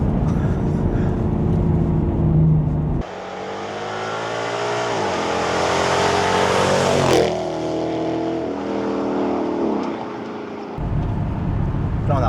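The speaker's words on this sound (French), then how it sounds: "Là, on a baissé un petit peu les fenêtres pour le son du V8." A Ford Mustang GT/CS V8 is heard with the windows lowered, its engine rising in pitch through several revving accelerations and gear changes, loud and close, with talk at the start and end.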